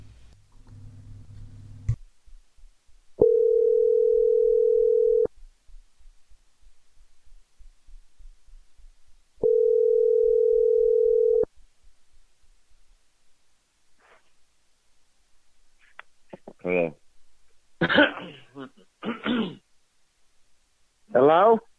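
A telephone calling back gives two long, steady ringing tones separated by silence. Faint, brief voices follow near the end.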